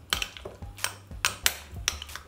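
A spoon stirs garlic into sour cream and homemade egg mayonnaise in a bowl, giving quiet, irregular clinks and taps against the dish, about half a dozen sharp knocks with soft scraping between them.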